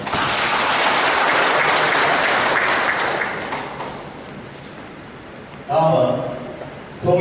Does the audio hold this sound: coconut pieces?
no